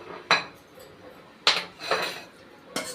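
A few sharp metallic clinks and scrapes ring out as roasted rava is tipped from a pan into a vessel, spaced apart and fairly close in a quiet kitchen.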